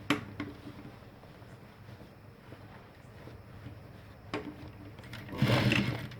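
A sewing machine stitches a ladies' pant at an elastic waistband: a low, faint steady whir with small clicks, swelling into a louder burst of stitching near the end.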